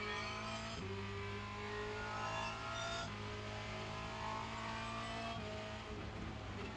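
A Formula Renault 2.0 race car engine in the iRacing game at Spa-Francorchamps screams at high revs, with sharp pitch drops at each of three quick downshifts before it climbs again, heard close and alone.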